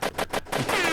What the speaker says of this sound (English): I got some gunshots.